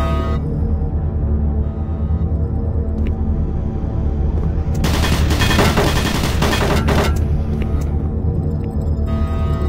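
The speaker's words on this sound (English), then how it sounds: "Warning, automated turret guns online." Automated turret guns in Doom 3 co-op play, a dense rapid burst of loud firing for a few seconds over a steady low mechanical hum.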